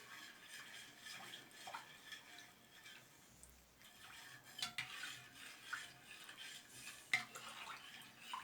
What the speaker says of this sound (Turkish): Evet biraz karıştıracağız